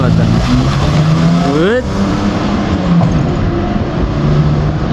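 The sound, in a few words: Gazel 3.3 litre V6 petrol engine revving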